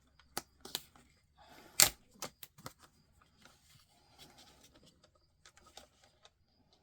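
A paper trimmer slices through card stock with a few sharp, close clicks and one louder snap, followed by faint scattered taps and handling noises in a quiet room.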